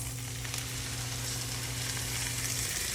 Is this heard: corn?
yes